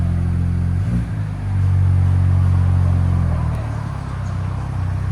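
A 2025 Ford Ranger with a 2.3L turbo engine and Borla ProXS dual exhaust rumbles loudly and steadily, swelling in a deeper drone through the middle before easing back to a lower idle-like burble.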